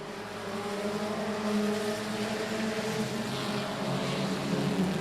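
Race cars racing down the backstretch of I-37 Speedway during the DTK Memorial night race, a steady roar of engines at moderate distance, continuous and without talk.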